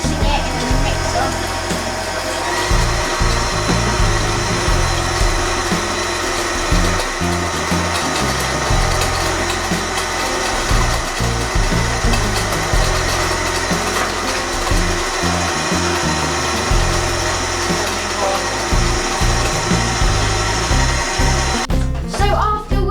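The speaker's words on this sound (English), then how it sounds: "we'll start mixing it in the mixer" An electric mixer whirs through marble cake batter in a home kitchen, a loud, steady motor drone with rhythmic pulsing as the beaters churn, running continuously before cutting off at the end.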